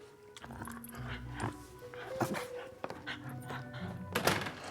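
A guard dog at a country house gives short yips and whines amid thumps and room noise, close by and moderately loud, with no clear speech.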